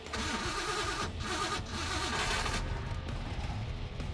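A car engine catches and roars to life right after gas is poured in, cranking into a loud, ragged, steady rumble that fills the whole moment with no talking over it.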